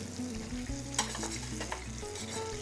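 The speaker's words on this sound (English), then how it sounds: "just kind of stir that tomato paste in and give it a quick little fry" Tomato paste frying in a hot pan alongside quickly cooked vegetables, a steady close sizzle with scraping stirring strokes and a sharp clink near the middle, no talking.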